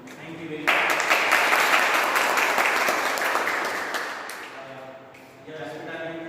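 An audience bursts into loud, dense applause after a speech, holding strong for several seconds and then thinning out, with a voice returning at the end.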